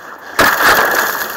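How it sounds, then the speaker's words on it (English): A car window shattering during vehicle extrication training, one sudden loud crack followed by a bright spray of breaking glass that trails off briefly, heard up close. "Supposed to be breaking glass."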